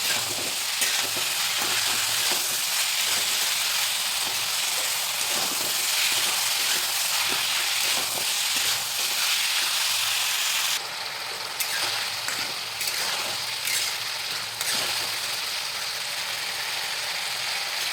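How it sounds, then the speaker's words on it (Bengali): Boiled chickpeas stirred and fried with spices in a pan: a steady, close sizzle with repeated scraping stirs throughout, the hiss thinning briefly near the end. "দিয়ে ভালো করে নাড়িয়ে ভালো করে চানাটাকে ভালো করে কষিয়ে নেব, যাতে মশলাগুলো এর গায়ে গায়ে লেগে যায়"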